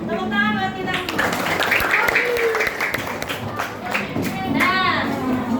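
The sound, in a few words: classroom of children clapping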